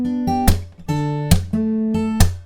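Close acoustic guitar picks a pattern of sustained plucked notes, one held a little longer, broken by three crisp slaps against the strings in a steady rhythm, played alone without voices.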